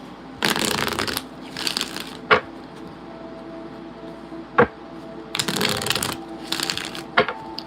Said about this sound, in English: This one's too big for me to shuffle.